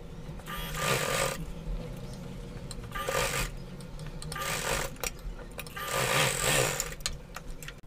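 A sewing machine stitches a pressed seam along a pleated gharara, running in three long bursts separated by short pauses, close and steady throughout.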